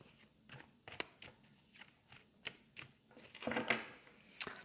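Quiet papery flicks and taps of oracle cards being shuffled, irregular, with a slightly busier riffle near the end.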